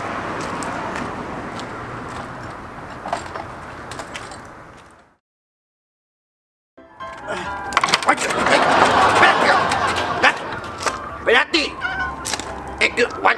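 A cat meows amid loud, busy indoor noise and people talking, with a sudden gap of silence midway before the meowing and clatter return even louder.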